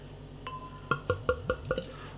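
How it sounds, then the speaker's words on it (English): Ardenne Stout, an 8% Belgian imperial stout from a 330 ml bottle, pouring into a glass, with a run of about five close, rhythmic glugs and clinks after a brief thin tone, with no talking. "Oh, listen to that glug."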